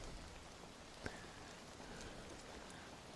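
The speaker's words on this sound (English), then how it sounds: "That's what I needed. A little bit of rain." Light rain falling outdoors, a faint, steady hiss with one soft tap partway through and no voices.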